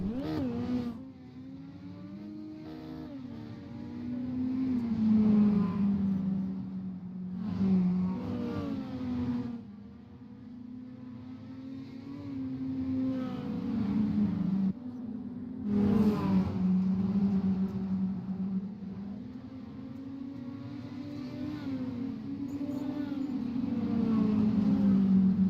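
Dirt mini stock race cars lap a dirt oval at Cedar Lake Speedway during a warm-up session, engines droning and revving steadily at mid distance, rising and falling as they pass with no talk.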